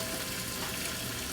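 Yogurt hits a hot pot of vegetable biryani with a steady, close sizzle, a brief dense hiss of frying with no talking.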